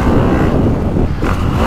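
A 2025 Honda CRF450R dirt bike ridden in third gear at a motocross track, its engine giving a loud, steady, close droning roar with a slight dip in pitch partway through, no voices.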